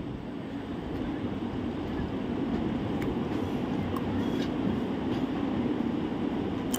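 Vaigai Express train running on the line in India, a steady broad low rumble with faint high clatter that holds evenly for about seven seconds.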